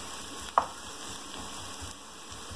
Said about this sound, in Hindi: इसको हल्का सा ब्राउन होने तक भून लेते हैं।